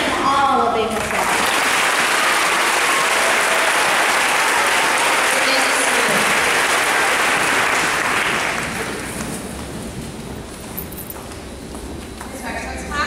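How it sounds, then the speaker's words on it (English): Applause from a graduation awards ceremony audience as scholarship and award winners are announced, a dense, steady clapping wash that fades to quieter scattered claps near the end. "Let's give them all a big applause."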